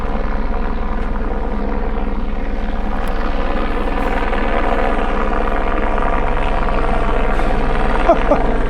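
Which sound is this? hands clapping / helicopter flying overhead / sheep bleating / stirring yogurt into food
helicopter flying overhead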